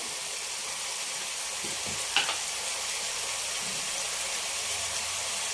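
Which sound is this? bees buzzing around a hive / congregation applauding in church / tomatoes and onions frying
tomatoes and onions frying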